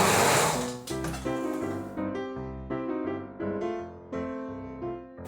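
Sewing machine stitching fabric for a school pencil case, running in several short bursts of steady mechanical whirring with brief pauses between them, close and clear with no talk.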